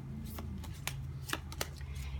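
Tarot cards shuffled by hand in a quiet room, giving soft, quick riffling and slapping sounds in a few short bursts over a low background hum.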